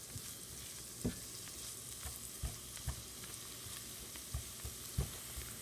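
Cooked potatoes and vegetables fry and brown in a pan with a soft, steady sizzle. Light scraping taps from stirring recur every second or so, close and fairly quiet, with no voices.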